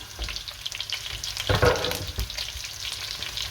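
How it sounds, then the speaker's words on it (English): Celery, celeriac, onion, carrots and garlic frying in oil in a pan, a steady close sizzle with a few stirring scrapes and a louder burst as the vegetables are moved. "we go in with celery, celeriac, onion, carrots, and the garlic"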